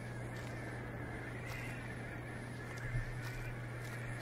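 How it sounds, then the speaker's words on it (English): Birds honk and caw in the Sylvio 7: Hotel Hijinx video game, set near a theme park. The calls come as faint, scattered bursts over a steady droning hum, with no talk. "So, birds."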